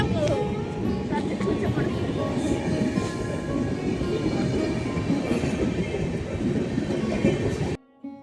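A steady, loud rumble of a moving, crowded passenger train fills the clip, with people talking faintly underneath, cutting out briefly near the end.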